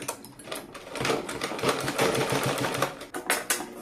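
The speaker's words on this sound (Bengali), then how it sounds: "এভাবে ভাজ করে এই পট্টির উপর দিয়ে কিন্তু সেলাই করে নিতে হবে" Sewing machine stitching over a folded strip on a blouse neckline, fast rhythmic needle clatter in short bursts with brief pauses, close and fairly quiet.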